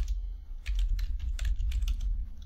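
A login password is typed on a computer keyboard in a rapid run of light, close clicking keystrokes over a faint low hum, with no talking.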